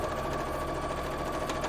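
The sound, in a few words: sewing machine sewing dress lining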